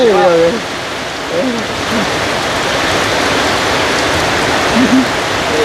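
Steady, heavy rain falling outdoors, a loud, continuous hiss with a few brief voices near the start and end.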